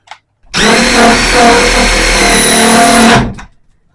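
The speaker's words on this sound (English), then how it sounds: "Maybe I need to use the hammer drill on it too." A hammer drill whirs loudly for about three seconds, starting and stopping abruptly, with a harsh grinding buzz close by and quiet before and after.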